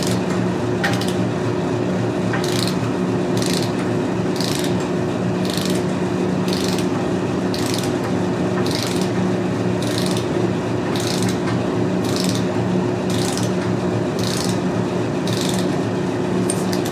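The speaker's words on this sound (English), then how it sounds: "We're going to torque it down to 35." A torque wrench ratchets on a tie rod nut of a Hummer H3, clicking in a regular rhythm of about one click every second, close and loud over a steady background hum.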